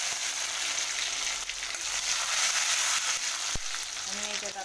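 Curry leaves dropped into hot oil for tempering give a continuous bright sizzle and crackle, close and steady, with a brief faint clink near the end.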